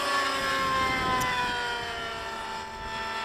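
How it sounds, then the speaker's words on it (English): A Vigor 60 RC nitro helicopter with an OS 61 engine, a tuned pipe and 610 rotor blades flies at a model flying field. It makes a steady, high, droning whine that stays faint and fairly distant throughout. "this is my Vigor 60, a newly rebuilt tail. And it's swinging 610 blades, running a OS 61 world-class helicopter engine"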